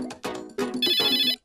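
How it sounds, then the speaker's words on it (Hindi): A telephone ringtone sounds loud and close on an outgoing call, in bursts of electronic tones that end in a longer sustained ring. "एहसान को कॉल करता हूँ।"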